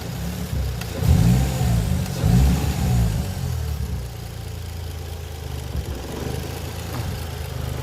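Toyota JZX110 engine at idle during troubleshooting, rising in two short rev bursts early on and then settling back to a steady, low idle hum, close by.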